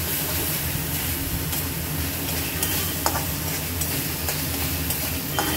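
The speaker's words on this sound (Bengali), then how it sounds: "মশলাটা একটু কষিয়ে নেব।" A spice paste with turmeric, coriander powder and cumin powder sautés in a pan for chicken ghugni, sizzling loudly and continuously up close, broken by sharp clicks and scrapes from stirring.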